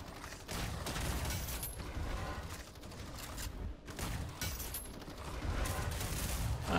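Sustained rapid gunfire from the online shooter Battle Teams 2, dense overlapping bursts with mechanical clicks running continuously at steady loudness, no voices.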